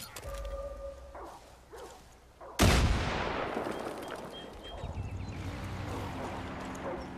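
A single sudden, loud gunshot blast from the video game Far Cry 5 cracks out midway, leaving a long decaying rumble over steady game background noise.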